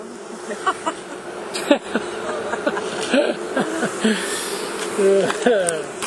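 Honey bees buzzing around an open hive during beekeeping at a plant nursery, a close, continuous insect drone with individual bees whizzing past, alongside scattered handling noises and brief human sounds.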